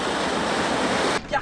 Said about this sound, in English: first thing is to get this big van through river crossing.